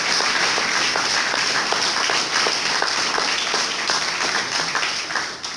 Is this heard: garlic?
no